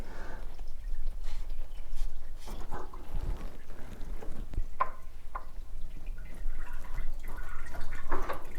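Coolant drips from the radiator of a 1965 station wagon during a water pump and V-belt job, faint irregular drops over low garage hum with a few clinks.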